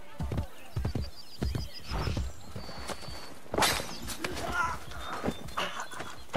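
Horse hooves clip-clop in a quick rhythm in Assassin's Creed: Brotherhood, with a horse whinnying partway through and other game sounds mixed in.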